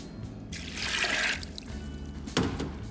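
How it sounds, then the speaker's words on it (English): Water is poured into a soup pot holding beans for a vegetarian US Senate bean soup, making a close splashing gush that swells then eases, followed by a brief sharper splash. "we're going to add in 3 quarts of water"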